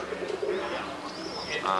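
Roller pigeons coo softly in a loft, with a couple of brief, warbling calls and some faint background chatter.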